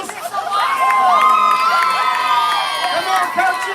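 A crowd at a high school pie auction cheers and whoops loudly for the coaches, with children shouting and excited voices blending into a sustained, near roar.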